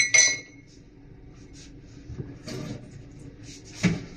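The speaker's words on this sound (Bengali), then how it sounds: "মুদ্রির জন্য চা বানাবো এই যে গ্লাসে করে।" A glass clinks sharply once near the start, then a few quieter taps and clatters of glassware follow as it is handled for making tea in a home kitchen, with no talking.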